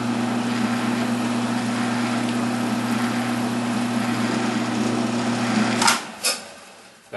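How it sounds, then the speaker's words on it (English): A drill motor runs with a steady whine and hum as a starter bit bores into 1/8 inch brass tubing. It holds a constant pitch for several seconds, then stops, and two sharp clicks follow. "We're going to use my starter drill here,"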